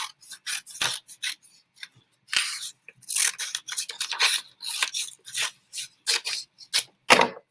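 Scissors cut a leaf shape from folded paper, a close run of crisp rasping snips in quick uneven bursts with short pauses between them.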